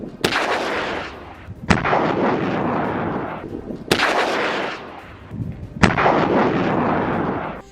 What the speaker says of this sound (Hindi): अल कुद्स का कहना है कि उसने यहां पर हैवी मोटर गोलों से हमला किया है।